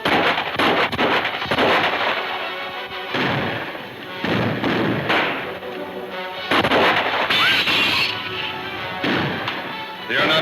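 Gunfire rings out in a western movie shootout, a rapid series of loud, sharp shots in bursts across the whole stretch, with brief gaps between volleys and echoing cracks.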